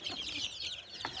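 Several large hens cluck and chatter softly around feed nearby, short repeated calls overlapping in a quiet yard without any speech.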